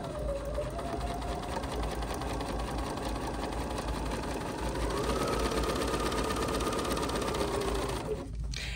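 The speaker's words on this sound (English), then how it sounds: "I'm going to lower my presser foot, and I'm just going to stitch" A Bernina sewing machine runs steadily through a straight stitch with pink thread, a continuous even mechanical whir and rapid needle rattle that holds from start to finish and then stops abruptly just before the end.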